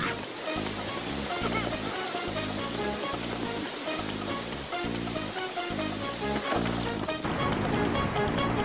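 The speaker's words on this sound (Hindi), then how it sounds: "पानी आ गया।" Water rushes and splashes in a Hindi animated cartoon, a dense roaring gush with choppy surges, loud and continuous, turning into a broader flood of noise near the end.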